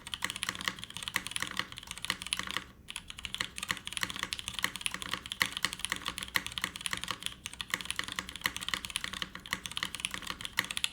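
A Bauer Lite mechanical keyboard fitted with vintage Cherry switches is typed on fast and continuously, with dense, close, scratchy keystrokes clattering for about eleven seconds and no speech.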